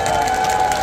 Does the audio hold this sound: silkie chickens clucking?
no